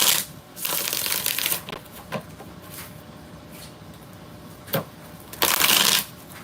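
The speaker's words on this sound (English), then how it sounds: "Alright, 5 shuffles." Tarot cards being shuffled in several separate bursts of crisp riffling and sliding, close and clear, with short pauses between each shuffle.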